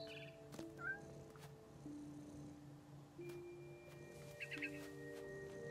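A cat in the video game What Remains of Edith Finch gives a short meow over soft, sustained background music and ambient tones, with a few faint chirps around it.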